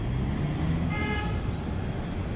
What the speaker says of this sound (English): All the honking, you know you're in New York City.